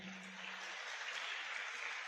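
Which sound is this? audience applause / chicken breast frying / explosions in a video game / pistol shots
audience applause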